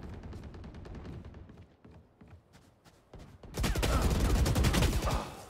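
Rapid automatic gunfire in a video game, a quick rattling string of shots that thins out, then a much louder, denser burst of fire to the end.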